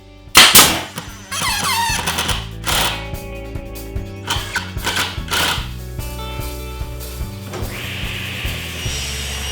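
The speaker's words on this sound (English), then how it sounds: "I'm using the nail gun to tack these together and just hold everything in place" A nail gun tacking wooden end table parts together, sharp loud pneumatic bangs in an irregular series with mechanical clatter and workshop noise between shots.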